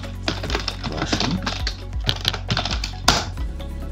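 Keys on a computer keyboard clack in quick, uneven bursts as a command is typed in a Kali Linux setup, with sharp close-up clicks, short pauses and a final harder keystroke near the end.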